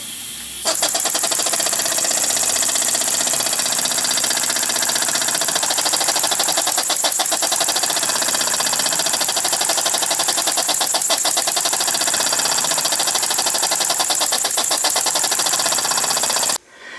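A small steam engine with a ball governor runs steadily under a finger load on its flywheel, giving a fast, even mechanical chuffing and ticking rhythm that holds close and loud for about sixteen seconds.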